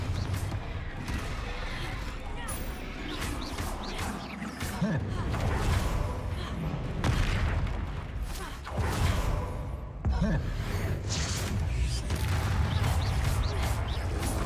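Confringo fire-blast spells in the game Hogwarts Legacy go off in loud, dense bursts of whooshes, crashes and thuds over a busy combat soundscape, with a voice talking through parts.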